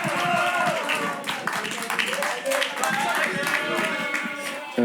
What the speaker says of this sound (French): Une voix lactée d'applaudissements pour Camille, s'il vous plaît.